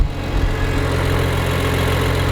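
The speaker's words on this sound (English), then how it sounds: "This is one high revving 6-cylinder engine." High-revving six-cylinder car engine running steadily, a dense, loud, even drone with a strong low rumble and no voices over it.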